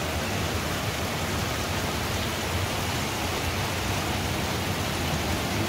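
Steady, dense rain falls without pause, a broad even hiss throughout with no talking.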